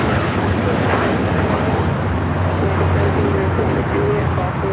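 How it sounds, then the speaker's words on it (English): A Turkish Airlines Boeing 787-9 Dreamliner on its takeoff roll at LAX, bound for Istanbul, gives a loud, steady jet roar with low rumble that holds throughout without fading. "Turkish Airlines Flight 180 taking off to Istanbul on the 787-9 Dreamliner."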